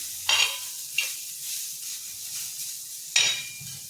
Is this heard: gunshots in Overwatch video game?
no